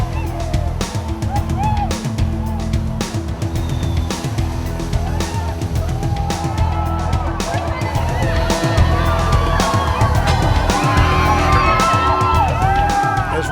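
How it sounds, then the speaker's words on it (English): Crowd of marathon runners cheering and whooping at a downtown starting line in Los Angeles, a steady dense roar of voices and yells echoing off tall buildings, swelling louder toward the end. "As runners cheer with delight, the sound echoes through the urban canyons of downtown"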